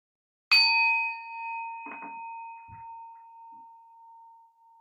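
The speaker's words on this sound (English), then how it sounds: "And we'll start here at the ring of the bell." A meditation bell is struck once and rings out clear and close, its tone fading slowly over several seconds while a few soft, faint sounds pass beneath it.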